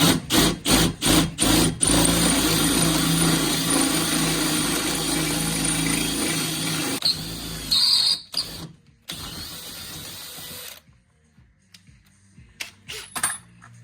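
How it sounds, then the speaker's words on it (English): A power drill's sharp mechanical whine grinds in bursts while drilling out an angled bolt on a Holden HQ ute, then cuts out, leaving short clanks and quieter rattling afterward. "It's on an angle, so let's just drill it out."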